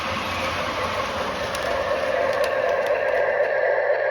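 A 1950s Lionel 2343 F3 Santa Fe model train engine runs on toy track and eases into a slowdown, giving off a steady, close-up electric motor whir and rolling rumble with a faint high whine.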